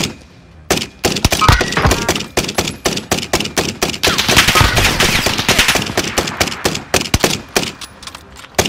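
Rapid automatic gunfire in the video game Call of Duty Warzone, with dense loud bursts of shots and sharp cracks, some overlapping, close and continuous for most of the stretch with no clear talk.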